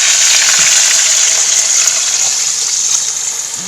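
Water is poured into a pot of Jamaican oxtail, a steady hissing splash and sizzle that runs loud and unbroken, slowly easing off toward the end, with no talking.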